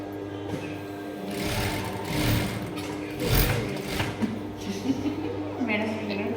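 Sewing machine stitching in steady whirring runs that speed up and slow down, close by, with people talking over it.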